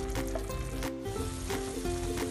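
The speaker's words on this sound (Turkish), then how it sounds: "üzerine yaklaşık 1 su bardağı kadar sıcak suyumu ilave ediyorum ve pişmeye bırakıyorum" Fava bean stew (iç bakla yemeği) simmering in a pot after about a cup of hot water has been added, giving a steady close sizzle and bubble with faint stirring clinks, and no speech.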